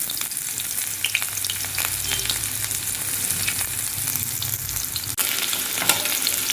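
Chopped onions sizzle in hot oil with whole cumin seeds, a steady close crackling hiss broken by stirring scrapes and a brief clatter near the end, with no voices.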